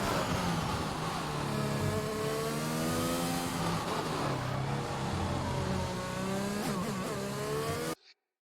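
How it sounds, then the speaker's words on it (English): A race car in a racing game, on yellow-walled medium tyres at the Singapore street circuit, revs hard and climbs steadily through its gears on a hot lap, a loud, continuous engine note with rising pitch sweeps, alone until it cuts off abruptly. "he is going to set his first hot lap"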